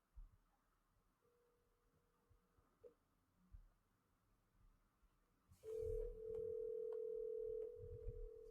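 An unanswered phone call rings out and forwards to voicemail. A faint tone comes first, then a louder steady electronic tone sounds for about two seconds over low background hum.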